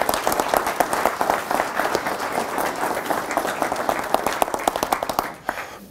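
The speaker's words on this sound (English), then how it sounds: "So would you give Jeffrey a round of applause, please?" Audience applause in a conference hall, a dense, steady round of many hands clapping, close and lively, fading out in the final second.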